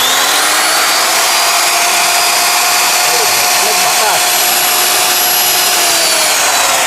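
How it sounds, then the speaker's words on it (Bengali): A CAN brand router machine runs with a steady, high-pitched motor whine, loud and close, holding an unbroken tone throughout. "এটা হলো রাউটার মেশিন"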